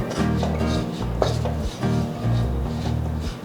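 Ragi kozhukattai dough being mixed and pressed in a pan, giving steady scraping and thudding strokes of utensil against metal, close and continuous without talk.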